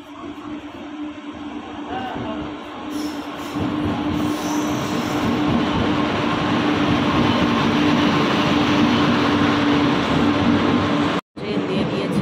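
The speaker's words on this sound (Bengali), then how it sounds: "ট্রেন আসছে।" A train running loud and close on the rails, a steady broad rumble with a sustained tonal hum that swells after a few seconds and stays heavy, then cuts out briefly near the end before resuming.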